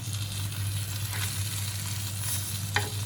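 Mackerel (bangda) frying in a pan, a steady close hiss of hot oil with a low hum beneath and a single sharp clink near the end, no talking.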